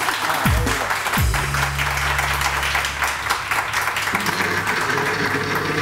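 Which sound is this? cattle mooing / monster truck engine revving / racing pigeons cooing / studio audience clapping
studio audience clapping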